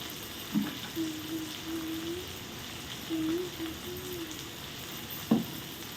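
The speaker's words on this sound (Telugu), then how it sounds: "పప్పు తాలింపు వేసుకున్నాము" Dal tempering sizzles faintly in hot oil with a soft, continuous crackle, punctuated by a few light clicks and a low hum in a quiet kitchen.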